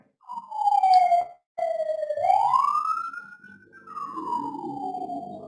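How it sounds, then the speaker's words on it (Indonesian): An ambulance siren wails through rising and falling sweeps with a short break, loud and clear at first, then fading as it passes by with some traffic rumble. "Tuh ada ambulans tuh."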